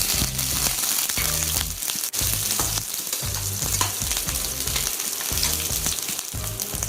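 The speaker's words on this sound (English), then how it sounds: "Once the oil is hot, add the garlic. In which I am going to add the capsicum." Garlic and capsicum fry in hot olive oil, a loud, close sizzle with rhythmic stirring scrapes throughout and no talk.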